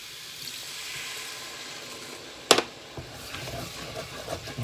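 Water splashes into a pot of mince curry on a boat cooker, a sudden pour with a sharp hiss as it hits the hot pan, followed by bubbling and gentle sizzling.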